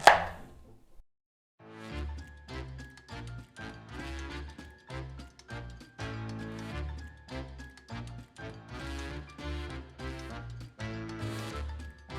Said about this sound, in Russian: Кабачок нарезан